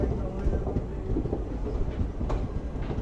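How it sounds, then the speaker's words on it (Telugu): Ratnachal Express passenger train rolling along after departing Anakapalli, heard from inside as a steady low rumble with faint rhythmic clatter of wheels on track, continuous and moderately loud. "మన ట్రైన్ ఏమో అనకాపల్లి నుంచి డిపార్ట్ అయిపోయిందండి"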